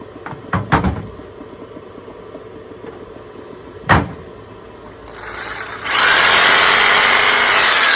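A few sharp clicks and knocks, then a power tool run from a 12V 100Ah lithium battery whirs up and runs loudly and steadily through the final seconds.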